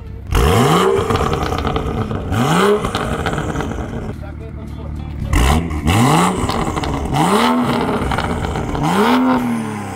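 A 400-horsepower car engine revs hard in repeated bursts, each rising then cutting off with crackling exhaust pops, loud and close, with people talking over it.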